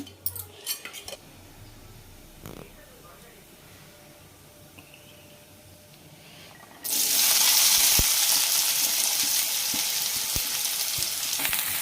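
Cumin seeds hit hot oil for a Telugu amaranth-leaf liver fry: after a few quiet moments with light utensil clinks, a loud, dense sizzle bursts in and keeps crackling steadily up close.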